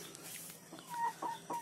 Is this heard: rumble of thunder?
no